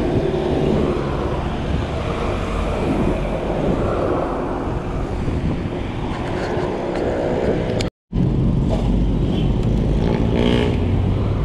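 Fast cars speeding past on a road, a loud, continuous roar of traffic close by with engine whooshes swelling and fading, cut by a brief dropout near the end before the rushing traffic noise resumes.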